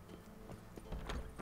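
A horse in The Witcher 3 walks with a few soft, close clip-clop hoof falls in a short uneven rhythm.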